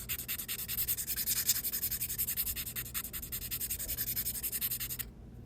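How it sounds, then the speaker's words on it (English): An oboe reed is filed by hand with rapid, rhythmic scraping strokes that are close and fairly soft. The strokes continue steadily for about five seconds and then stop abruptly. "So now I'm just finishing up filing it and making it look nice."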